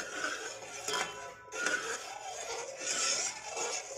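A spoon scrapes and clinks against a pot of heating milk, steady stirring strokes at close range with no talking.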